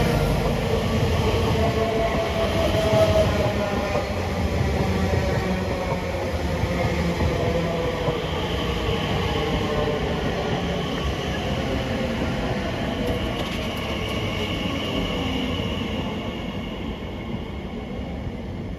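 A train bound for Heathrow Terminal 4 rolls past a London station platform in a long, steady rumble. Wheel and motor noise holds fairly loud and close, slowly easing toward the end, and no one speaks.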